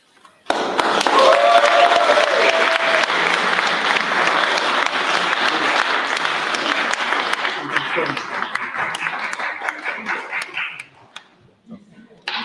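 Loud, sustained applause from a crowd at an exhibition launch, dense clapping starting abruptly and holding for about ten seconds before tapering, with scattered voices and whoops mixed in.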